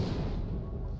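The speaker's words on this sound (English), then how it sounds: "There's our meteors hitting the surface." Meteors strike the surface in Oxygen Not Included, a brief, muffled low rumble of dull thuds, like distant artillery, heard alone.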